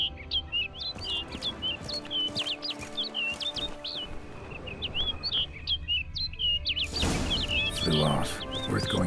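Repeated bird chirps in The Witcher 3: Blood and Wine, a quick run of bright tweets over a steady ambient bed, then a louder rush of sound near the end.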